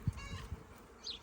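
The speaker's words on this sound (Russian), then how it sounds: "И уже пчелы здесь вовсю опыляют." Bees at work among blooming cherry plum blossoms, with a few faint, brief buzzes passing close by, separated by quiet moments.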